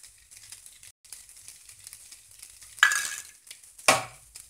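Pepper idli pieces with salt are stirred in a pan over a slow flame. Soft sizzling runs under two sharper scraping strokes of the spoon near the end.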